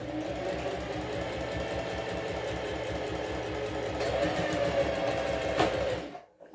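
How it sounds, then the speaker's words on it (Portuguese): A sewing machine runs fast and continuously, stitching fabric for a simple zip pouch with a close, even mechanical whir, growing slightly louder before it stops abruptly at the end. "Vai tirando os alfinetes e vai costurando."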